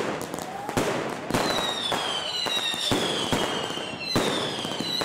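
New Year fireworks bursting in a Dutch village, with repeated sharp bangs and crackling reports plus rising whistles, loud and close against a continuous noisy backdrop.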